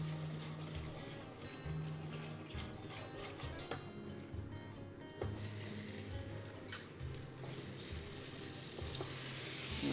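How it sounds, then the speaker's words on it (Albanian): Sugar caramelizes with pears in a frying pan for a pear soufflé, giving a steady hiss and sizzle throughout with scattered crackles and a few louder bursts, and no voices. "Karamelizohet sheqeri."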